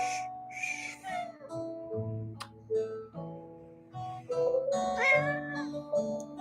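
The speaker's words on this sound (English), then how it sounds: "it's my cat, Ezra." A pet cat meows repeatedly indoors, several drawn-out, rising and falling cries spread across the stretch, close and fairly clear with faint room noise between them.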